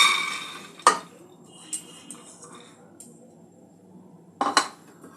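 Moong dal and kidney beans go into a pressure cooker with two sharp metallic clanks of a utensil against the pot, with softer scraping and rattling of grains between them.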